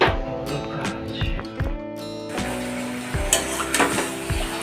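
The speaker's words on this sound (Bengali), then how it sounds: "তো চলো মাংসটা চাপিয়ে দেওয়া যাক এবার।" Meat, apparently chicken, goes into a hot pan in a home kitchen and sizzles loudly and steadily, with metallic clatter from stirring and scraping layered over the constant frying hiss.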